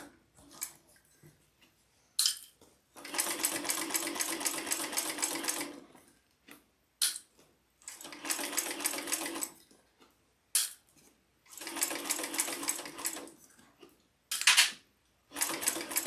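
Sewing machine stitching a handbag on a flatbed, sewing from the inside of the bag: three long bursts of rapid, steady stitching broken by quiet pauses and a few short clicks.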